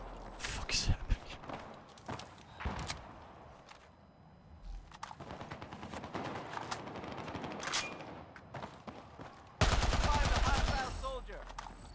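Bursts of RPK light machine gun fire in Battlefield 4, Operation Locker domination match, sharp rapid automatic volleys with gaps between, ending in a loud sustained burst, with a player talking at times.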